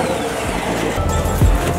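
A Chevrolet Corvette engine rumbles loudly and close, surging briefly toward the end of a short burst with a deep low growl and some tire noise.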